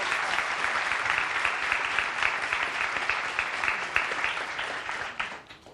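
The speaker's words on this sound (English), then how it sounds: "So I want to applaud you." A studio audience at a television talk show claps steadily in sustained, dense applause that fills the room, then begins to fade toward the end.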